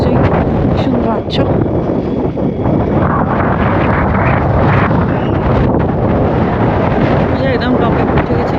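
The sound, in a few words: wind at the Great Orme summit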